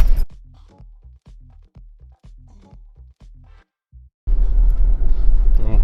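An Audi A6 C4 with a 2.5 TDi diesel engine on the move: someone talks calmly at first, then a loud, steady, broadband rumble of the engine and road noise surges in and carries on.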